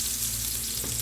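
Olive oil sizzles steadily in a pan for a meat soup, a constant close frying hiss with no voices over it.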